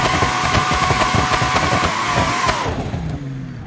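An 800-horsepower car with pop-up headlights driving in the BeamNG video game on a drift run, its engine a loud, steady, dense drone that eases and drops in pitch near the end, with no talking.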